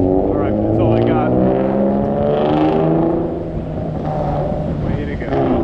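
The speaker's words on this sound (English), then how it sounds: "You have a loud engine." A loud vehicle engine on a New York City street, its steady harmonic drone running strong and close throughout, dipping slightly midway before swelling again, with wind buffeting the microphone.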